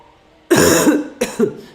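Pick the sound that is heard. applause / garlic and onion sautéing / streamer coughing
streamer coughing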